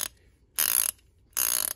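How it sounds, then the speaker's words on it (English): A ratcheting box wrench from an Icon double box set turns a bolt. It gives two short, crisp bursts of rapid clicking, each lasting about a third of a second, close up with quiet between them. "you just flip it over and use the ratcheting side"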